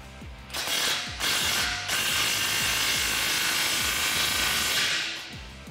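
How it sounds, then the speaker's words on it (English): A ratchet wrench with a 15 mm socket tightens the exhaust clamp on a muffler delete for a 2009-2018 RAM 1500 5.7L, giving a loud, continuous run of rapid clicking with brief pauses between strokes and no talk. "grab a 15 millimeter socket and tighten it down."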